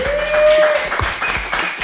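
A live podcast audience at a podcasting event in Bilbao breaks into brief applause, a near, full burst of many hands clapping with a faint tone running beneath.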